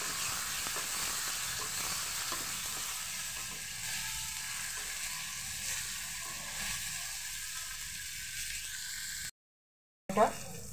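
Chopped tomato hits a hot frying pan for an egg dish, giving a steady, even sizzle that runs almost the whole time, then a brief silence and a short clatter at the end.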